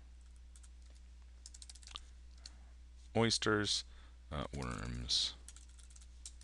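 Light computer-keyboard typing while answer options are entered into a multiple-choice quiz question, faint clicks soon giving way to a person speaking over them.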